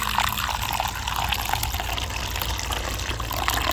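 Pumpkin beer poured a little at a time through a funnel, giving a steady, continuous liquid rush and splash that runs close and fairly loud for the whole stretch, with no talking.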